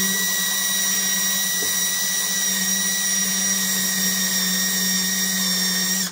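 A power drill fitted with a cheap drill bit runs steadily during work on a Volvo car, giving a continuous close whine that holds at an even level for about six seconds and then cuts off.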